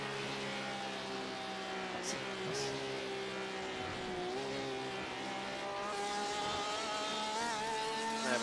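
Onboard engine of a race car lapping Daytona during an eight-hour endurance sim race, a sustained high engine whine with rising and falling revs as the driver works the throttle, loud and close with no talk.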